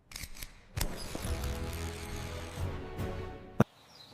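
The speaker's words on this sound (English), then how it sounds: "He takes scissors, cuts the rope between the green leaf and gold." A pair of scissors snips through a rope with a couple of sharp clicks, set against a sustained tonal background and ending on one crisp, loud snap.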